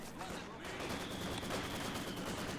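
Dense gunfire fills a World War II strategy game battle in a competitive match, with a continuous rattling fusillade of overlapping shots that sounds loud and close.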